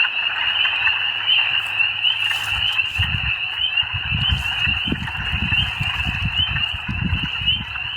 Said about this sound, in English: I think I have a short video of Diana listening to the ducks and the frogs and the geese in the spring.